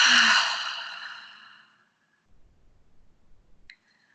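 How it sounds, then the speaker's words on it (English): A single deep exhale during a yoga class: a long, loud breath that fades over about two seconds, followed by quiet shuffling and a faint high tone near the end. "We're going to take one deep and cleansing breath together."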